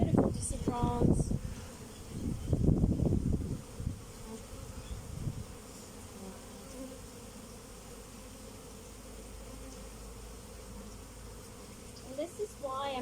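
Honey bees swarm and buzz around two opened hives, a steady droning hum that carries through the whole stretch, with louder rustling and handling bursts near the start and occasional nearby wingbeats close to the ear.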